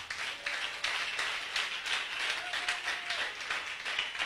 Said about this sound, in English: Okay, clap for Jesus.